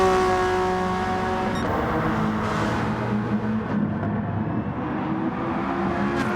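Rally cars and Group 4 race cars roar together in a racing video game, engines droning and shifting pitch as they chase each other at speed.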